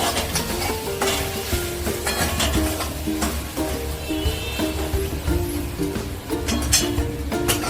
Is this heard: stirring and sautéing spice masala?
yes